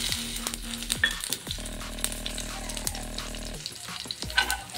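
Mustard seeds, cumin and garlic fry in hot oil with a lively crackling sizzle and sharp pops. Faint music plays underneath the close spattering.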